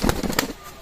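A Turibas pigeon beats its wings in short, close bursts of flapping for under a second, the soft thumps fading quickly into quiet.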